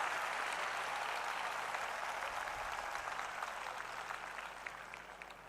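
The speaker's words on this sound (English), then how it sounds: "Let's give a biggest round and applause to all these children here." An audience applauds children at a humanitarian award ceremony honouring Nita Ambani, a steady, dense wash of clapping from a large crowd that holds throughout and tapers slightly toward the end.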